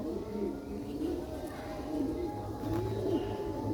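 A black Sialkot-breed pigeon coos in soft, repeated rolling phrases over a low steady background hum, with faint voices now and then.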